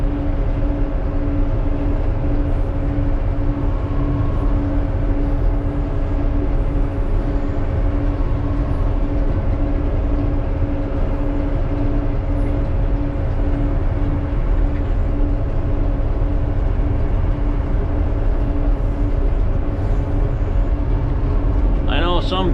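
A long motor grader blades a gravel road, its diesel engine droning steadily and loudly from inside the cab alongside a constant gravelly rumble, with someone talking over it.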